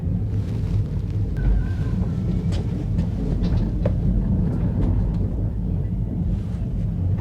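The Chitra Express runs toward the new Jamuna rail bridge, heard from inside as a loud, steady low rumble of wheels and carriage with occasional clanks and rattles throughout.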